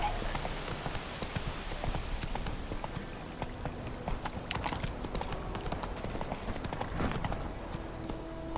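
Roach, the horse in The Witcher 3, galloping with rapid, steady clip-clop hoofbeats close by, a continuous rhythmic drumming over a low ambient bed.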